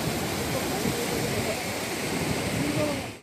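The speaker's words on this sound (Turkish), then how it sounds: "Karadeniz'e dökülen Bartın Irmağı Kemer Köprü mevkiinde taştı." The flooded Bartın River overflows at the Kemer Bridge, its floodwater rushing in a dense, steady roar that stays constant and then fades out quickly at the end.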